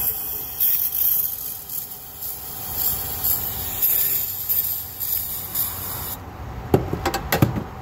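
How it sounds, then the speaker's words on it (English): Brake cleaner sprayed into the 5/8-inch heater hose of a Jeep Liberty during a heater core flush: a steady close hiss lasting several seconds, followed by a few sharp clicks and knocks near the end. "We're gonna spray some brake clean into the 5/8 hose side."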